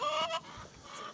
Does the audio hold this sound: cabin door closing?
no